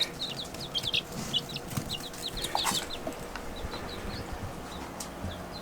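Chickens cluck in a farm setting, with a busy series of short, soft calls repeating irregularly at moderate distance over a faint outdoor background.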